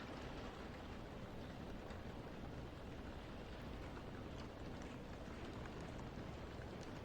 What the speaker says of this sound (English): The sound of rain is nice.